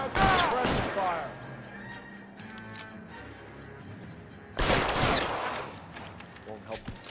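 Suppressive gunfire from the video game L.A. Noire comes in loud, close bursts of rapid shots, one at the start and another midway, with a rattling echo between them.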